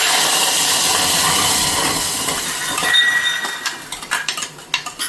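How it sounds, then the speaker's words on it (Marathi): A loud, steady sizzling hiss as beetroot-tomato puree hits hot ghee in a pan, easing off and giving way to scattered clinks of a utensil against metal. "एका पॅन मध्ये मी तूप गरम करून घेतलेलं आहे"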